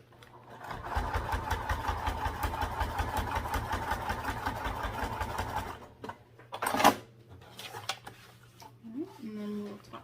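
Sewing machine top stitching a sling lining, a rapid even run of stitches lasting about five seconds, then stopping. Brief handling noises follow, along with a short voice.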